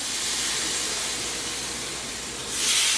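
Pork chops laid into a hot pan, a loud continuous broad sizzling hiss that holds steady and then swells louder near the end, close up with no talk.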